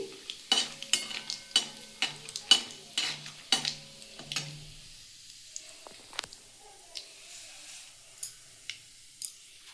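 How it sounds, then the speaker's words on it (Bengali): Cumin seeds and dried red chillies fry in hot oil for tempering, with a brief sizzle, a run of sharp crackles and pops, then quieter sporadic ticks and spatters. "আর একটু সাদা জিরে ফোড়ন দেবো ফোড়নটা একটু ভেজে নিচ্ছি"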